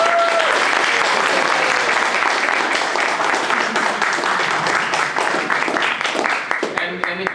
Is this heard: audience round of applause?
yes